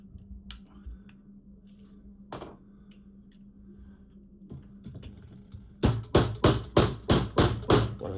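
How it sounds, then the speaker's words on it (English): Hammer strikes tapping a Timney Alfa competition-series trigger into a Glock 45 pistol frame: a burst of about eight sharp, close metallic taps in quick even rhythm, after a few scattered quieter clicks. "when in doubt, hit it with a hammer."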